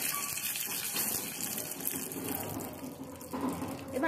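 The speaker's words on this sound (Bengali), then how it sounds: "আমি সরষের তেল গরম করে নিয়েছি আর দিয়ে দিচ্ছি কারি পাতা।" Curry leaves dropped into hot mustard oil for a tomato-poppy seed chutney, giving a steady, close hissing sizzle that swells slightly toward the end, with no speech.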